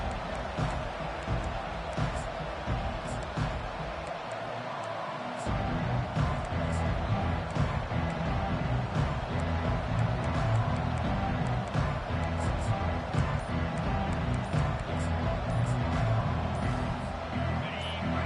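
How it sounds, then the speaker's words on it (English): Stadium crowd roar from a college football video game, Texas A&M versus Ole Miss, a steady dense wash of noise that swells louder partway through and holds for the rest. "listen to the roar of this crowd"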